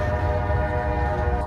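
Train horn sounding loud and steady as a train passes near a level crossing in Hammond, Indiana, a continuous harmonic blare over rumbling wheels throughout, with no talk.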